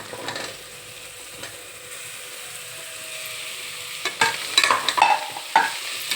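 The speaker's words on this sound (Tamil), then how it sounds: "இதை நல்லா ஒரு வதக்கிக்கோங்க." Potatoes and tomatoes with a handful of mint being sautéed in a pan: a steady soft sizzle with scraping stir strokes and spatula clicks growing louder and more frequent toward the end, no talking.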